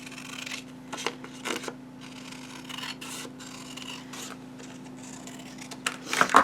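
Repeated short snips and rustles of scissors cutting paper, close up and quiet, with a steady low hum underneath and no talking.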